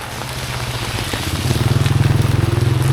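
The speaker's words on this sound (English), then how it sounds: "This is the heaviest rain we ever had for this year" Heavy rain in Laos pours down steadily with a dense, continuous wash of noise, while a low rhythmic engine-like rumble grows louder partway through.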